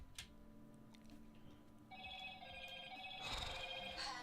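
A mobile phone rings with a tonal ringtone from an incoming scam call, faint and somewhat distant, rising in loudness over a quiet room background.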